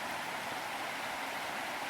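North Harper Creek flowing in Pisgah National Forest, North Carolina: a steady, even rush of water, close and unbroken, with no voices.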